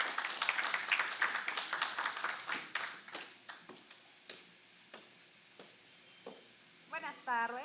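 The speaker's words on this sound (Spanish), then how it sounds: "recibamos con fuertes palmas a Katy Mundo" A conference audience at a political communication congress claps to welcome a speaker: a burst of applause that thins into scattered, fading individual claps, followed by a brief voice at the end.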